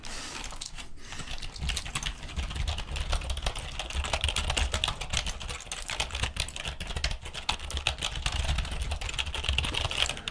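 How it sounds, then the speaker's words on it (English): A beige-white vintage computer keyboard is typed on steadily and fairly close, producing a dense, continuous clatter of keystrokes with no voices. "But when it comes to typing, I think this, I don't know if it has the edge over the other keyboard."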